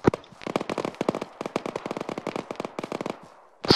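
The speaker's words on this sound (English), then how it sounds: "he's standing here invisible in Zeus being a dick and firing flares in the air" Flares fired repeatedly into the air in the Arma 3 military game, a rapid rattling series of sharp pops and bursts, loud and close, running in quick irregular volleys with a heavier blast at the end.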